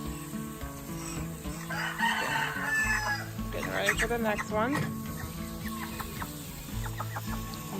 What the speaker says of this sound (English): Got a big den of chickens over there.